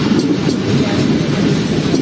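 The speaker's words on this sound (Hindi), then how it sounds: "145 अब ओवरटेक कर रही है हमें डाउन मेन लाइन से और हम लोग इसे देख रहे हैं यहाँ से गुजरता हुआ।" Passenger train 145 overtaking on the down main line: a loud, steady rumble of rolling wheels and carriages passing close by, with a few faint rhythmic clicks over the rail joints.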